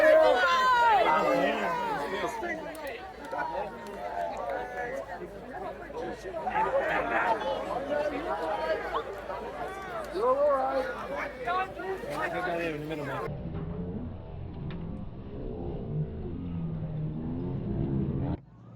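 Dense crowd chatter and shouting at the Ottery St Mary tar barrel running on 5 November, a loud continuous hubbub close by that drops to a lower, rumbling murmur near the end.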